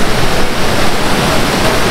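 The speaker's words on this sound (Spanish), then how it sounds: "ya nos encontramos en la cascada Santa Rita" Santa Rita waterfall in a nature reserve roars loudly and continuously, a dense close rush of falling water with no voices.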